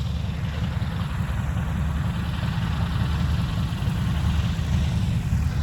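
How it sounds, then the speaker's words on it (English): A Stearman biplane's radial engine runs at a fly-in, giving a steady low rumbling drone that holds level throughout, with no talking. "hopefully you're hearing some of this radial engine noise over there"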